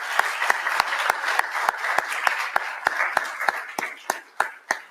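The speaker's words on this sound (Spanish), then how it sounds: "Entonces, un aplauso para la doctora." Audience at a university lecture on Gioconda Belli's poetry in Guadalajara claps for the lecturer, a sharp, steady round of individual hand claps that stays fairly close and thins out toward the end.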